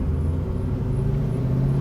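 A 1966 Ford Mustang Fastback restomod with a 347 stroker engine rumbles steadily nearby, its deep low drone holding constant throughout with no pauses or talk.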